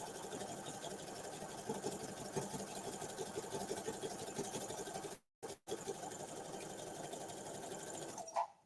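A sewing machine stitches at a steady, rapid whirring pace, loud and close, stopping briefly twice in the middle before running on, with a faint click near the end.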